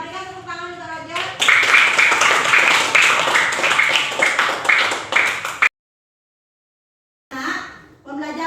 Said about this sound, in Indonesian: berikan tepuk tangan untuk Roger